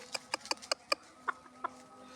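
A few short, sharp clucks from chickens, several in quick succession then two more after a pause, fairly faint.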